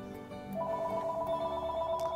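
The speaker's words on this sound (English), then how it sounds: "I gotta answer that phone, excuse me." A telephone rings nearby at an indoor photography talk, a steady electronic warble that holds clear and loud for over a second and a half after a brief lead-in.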